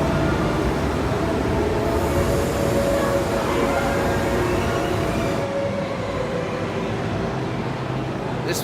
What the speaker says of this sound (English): Okay, so it's time to get on the train.